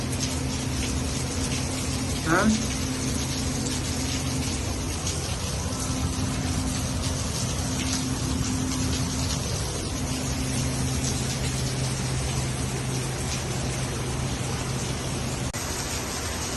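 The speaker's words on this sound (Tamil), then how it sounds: "It's still raining." Steady broadband hiss of rain falling during a motorcycle ride on a road from Iritty to Wayanad in Kerala, constant and fairly loud throughout with a brief faint chirp early on and no talking.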